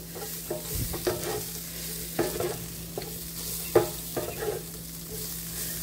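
Corned beef hash with plain boiled potatoes is tossed in a hot pan, a low sizzle broken by several soft scraping, shuffling bursts as the food is turned, with no talk.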